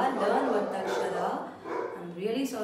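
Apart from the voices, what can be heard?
dog barking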